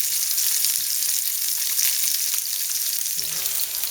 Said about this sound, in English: now that they've sizzled a little bit, you can see even some of the crumbs are breaking off